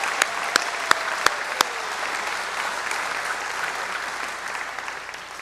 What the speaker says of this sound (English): Let's have a round of applause for our amazing student athletes.